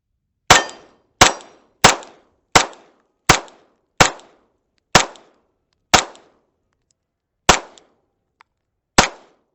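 Rifle rounds are fired while testing a red dot sight: about a dozen sharp, loud gunshots at a steady pace, each with a short decaying echo, and a longer pause before the last two.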